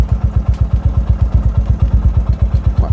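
A motorcycle engine runs at a low idle, thumping in an even, rapid rhythm of close, loud pulses that holds steady from start to finish.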